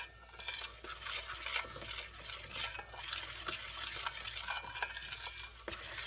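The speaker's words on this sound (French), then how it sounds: "Je mélange." A utensil stirs food in a pan, scraping and clinking against the metal steadily and close by over a soft sizzle, with no voices.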